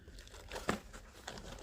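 A plastic bag crinkles briefly while tools are unpacked, one sharp rustle in the middle with softer crackles around it, quiet and close.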